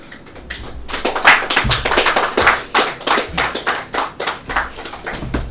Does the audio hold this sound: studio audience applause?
yes